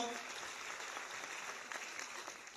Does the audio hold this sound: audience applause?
yes